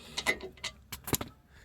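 A socket wrench turned by hand on a ball joint bolt during a lower ball joint replacement gives a few quiet, irregular metallic clicks and scrapes with short pauses between them.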